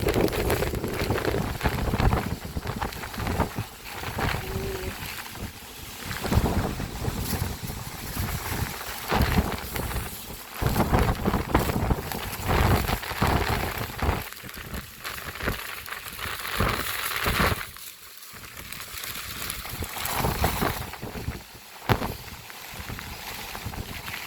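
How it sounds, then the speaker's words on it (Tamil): A storm in Jaffna brings heavy rain and strong wind, a dense, roaring wash of noise with gusty swells and buffeting that continues without letup. "தொடர்ந்தும் விடாமல் மழை பெய்து கொண்டிருக்கு பாருங்க."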